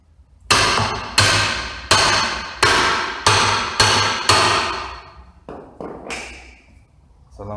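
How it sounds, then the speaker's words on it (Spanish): Hammer blows strike a Stilson pipe wrench to loosen the transmission nut of an automatic washing machine in a workshop. About eight loud, ringing metallic hits come at a steady pace, each decaying briefly, and a few lighter taps and clatter follow. "yo le voy a dar unos golpes a la llave Stilson hacia el lado derecho"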